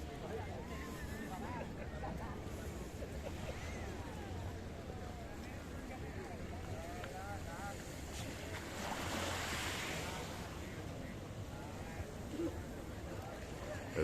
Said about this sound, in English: We're going to show you the blue Mediterranean Sea.